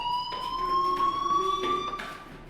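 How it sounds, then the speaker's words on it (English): A fire alarm rings in the video game Life is Strange, a loud continuous electronic tone pulsing in quick repeated bursts, with no speech over it. "Hey, do you hear that fire alarm?"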